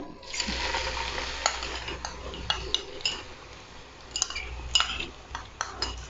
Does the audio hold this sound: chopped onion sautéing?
yes